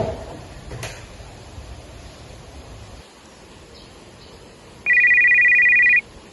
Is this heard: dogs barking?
no